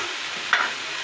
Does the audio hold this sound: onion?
yes